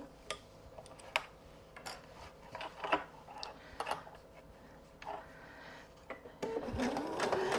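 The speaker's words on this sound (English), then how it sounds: "And I'm just going to sew all the way around." A sewing machine runs around the edges of a fabric piece in short bursts of ticking stitches, near and fairly quiet, building to a denser whir at the end.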